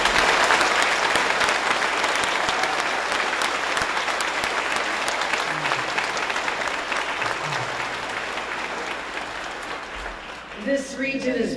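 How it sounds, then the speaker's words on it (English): Sustained applause from an audience at a museum ribbon cutting ceremony in Rochester, New York, honoring Steve Butler. The clapping is dense and steady, slowly thinning toward the end, with a brief voice near the close. "let's get another round of applause to Steve Butler"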